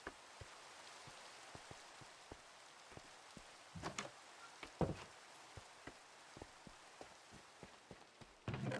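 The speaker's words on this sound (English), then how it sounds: "Oh wow, it started raining right there first." Rain falls in a video game world, a soft steady hiss with sparse, sharp drop-like ticks and knocks scattered throughout, fairly faint, with a slightly louder rustle near the end.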